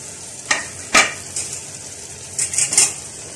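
Vegetables and noodles fry in a pan as spoons toss them, giving a few sharp scraping clatters over a soft steady sizzle, close and without talk.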